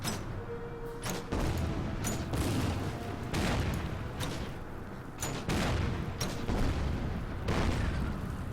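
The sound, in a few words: mortar fire in the video game Order of Battle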